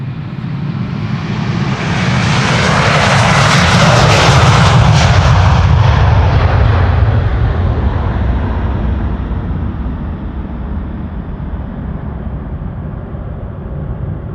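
A thirteen-year-old airliner takes off at Amsterdam Schiphol, its jet engines swelling into a loud, close roar that peaks mid-way and then slowly fades as it climbs away, with no talking.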